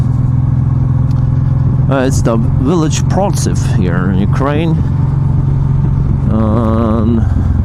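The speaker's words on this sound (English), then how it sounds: "we're gonna ride this motorcycle across these wonderful streets" A Honda VTX motorcycle rides through village streets in Ukraine, its engine a steady, loud, close drone running continuously beneath a rider talking over it.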